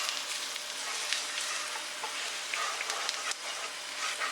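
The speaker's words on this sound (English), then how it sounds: "Just try and get all your dry spices all kind of mixed into the oil and start to fry it" Dry spices and ginger fry in oil for a lamb curry, giving a steady, close hiss of sizzling with small crackles and pops scattered throughout.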